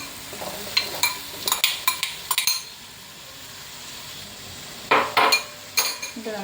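Chicken curry masala with tomatoes being stirred in a pan, a spoon clinking and scraping against the metal in short bursts, with a quiet gap in the middle and a faint sizzle underneath.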